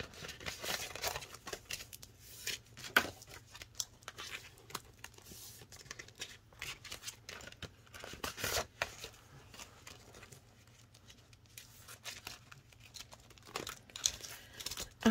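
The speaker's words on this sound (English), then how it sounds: "I'm just going to go through and take out all of my transaction slips really quick so I can update those." Paper transaction slips being pulled out of cash budgeting envelopes, a close, quiet run of crinkling and rustling with irregular crisp snaps and tears, no voices.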